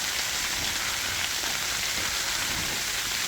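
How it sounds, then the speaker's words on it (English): Snow sliding off a storm shelter roof as it is pushed up from underneath, a steady dense hiss like heavy rain that holds unbroken throughout, close and fairly loud with no talking. "the snow sliding off of this thing as I push up"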